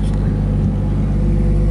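A 2JZ-engined Nissan S13 pulls away with a steady, loud, low engine rumble that holds constant throughout, heard close up.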